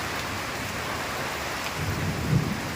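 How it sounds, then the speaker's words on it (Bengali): Heavy rain pours in a dense, steady roar of drops, close and loud, with a faint low rumble swelling briefly toward the end. "প্রচণ্ড পরিমাণে বৃষ্টি হচ্ছে"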